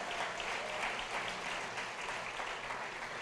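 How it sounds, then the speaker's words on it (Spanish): Church congregation applauding together, a dense, steady wash of clapping hands that fills the space evenly from start to finish with no voices breaking through. "denle un aplauso al Señor, denle un aplauso al Señor, vamos."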